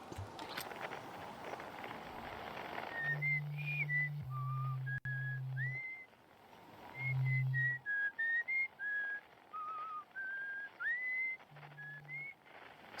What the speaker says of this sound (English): Somebody whistling?